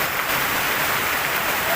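Heavy monsoon rain pours down in Kerala, a dense, steady roar of falling water that stays loud and unbroken throughout the short stretch.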